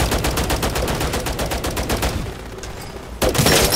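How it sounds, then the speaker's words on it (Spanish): Rapid automatic gunfire rattles continuously in Call of Duty MW3 Zombies, loud dense bursts that briefly pause before another volley erupts. "que tiroteo"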